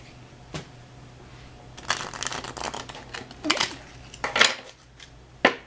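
Tarot cards being shuffled by hand, a few quiet riffling bursts that grow more frequent and crisp toward the end, close and otherwise quiet.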